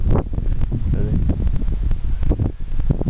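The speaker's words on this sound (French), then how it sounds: "désolé si vous entendez le vent" Heavy wind buffets the microphone with low rumbling gusts and rustle throughout, with a voice faintly present beneath the noise, outdoors during metal detecting.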